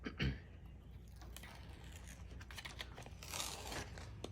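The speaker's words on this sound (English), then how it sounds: "we're just gonna peel our tape off" Adhesive tape is peeled off during a mini album craft project, giving soft close rustling and crinkling with a quieter ripping stretch toward the end.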